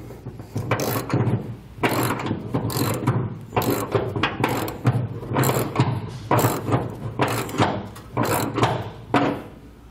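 Ratchet cranking bolts tight while installing a B and W Companion fifth wheel hitch on a 1996 Ford F-series truck, with steady bursts of close, loud clicking repeated in rhythmic strokes throughout.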